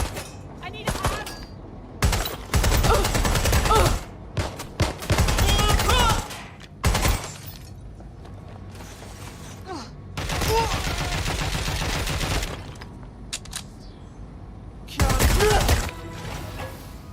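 Gunfire in Watch Dogs Legion comes in repeated loud bursts of rapid shots, several volleys of one to two seconds with quieter gaps between them.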